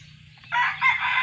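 A rooster crows loudly and close by in a backyard flock, one bright, strained call rising after a short quiet lead-in with faint low hum underneath.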